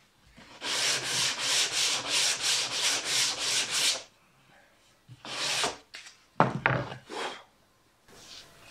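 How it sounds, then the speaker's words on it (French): Sanding block rubbing the edges of a wooden kitchen door, a run of about eight quick rhythmic back-and-forth strokes, then a pause and a few more scattered rubs, close and clear. "on met deux coups de cale à poncer"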